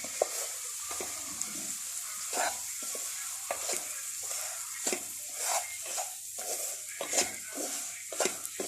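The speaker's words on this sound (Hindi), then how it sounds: "इसके अंदर सूजी ऐड कर देंगे और इसको अच्छे तरीके से हम भून लेंगे" Semolina (sooji) roasts in a pan for halwa over a soft sizzle, with a spoon scraping and stirring in repeated strokes, close but fairly quiet, and no one talking.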